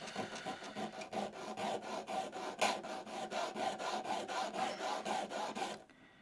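A cross-grain nicker blade is honed on a sharpening stone in steady back-and-forth strokes, a close rhythmic rasping scrape repeating about three times a second before stopping abruptly.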